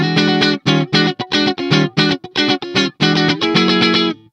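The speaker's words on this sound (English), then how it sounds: "Now let's hear it in snappy mode." A clean electric guitar passes through the Neural DSP Archetype Nolly X compressor set to snappy mode, hitting punchy, tightly clipped chord stabs in a quick rhythmic pattern, loud and up close with no voices.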